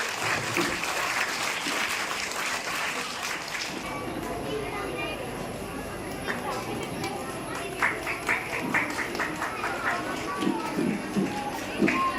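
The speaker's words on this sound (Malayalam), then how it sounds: "എല്ലാവരും ഒന്ന് കൈയടിച്ച് പ്രോത്സാഹിപ്പിക്കാം കേട്ടോ" Audience clapping at a school admission ceremony, a sustained burst of applause that fades after a few seconds into room chatter, with a voice speaking over the crowd and scattered claps later.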